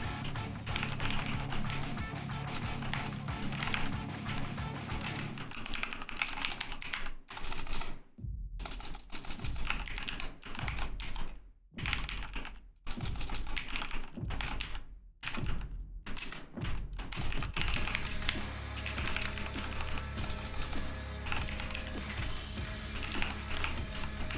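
Clattering keystrokes on a computer keyboard during a live coding stream, a steady run of quick taps broken by a few short pauses, fairly quiet under a constant background hum.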